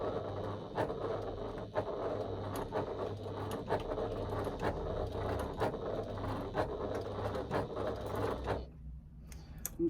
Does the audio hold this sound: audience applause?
no